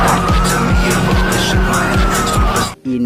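A toy police car plays a sound effect of screeching tires, repeated skid sweeps about twice per second over a roaring engine, loud and close, ending in a brief gap and a short final tone.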